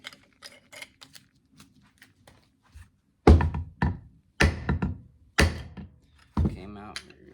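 A bullet puller knocks a 9mm projectile loose with a series of sharp, hollow thunks and knocks, close and irregular, following lighter ticks and clicks.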